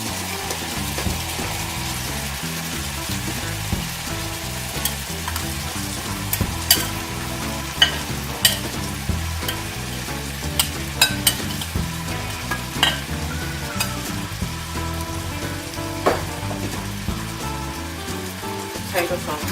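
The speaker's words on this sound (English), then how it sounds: "what we're going to do is add our potatoes on top." Potatoes being layered over cooked sausage and onions in a hot pan, with continuous loud sizzling and frying crackle, clattering stirs and scrapes, close up.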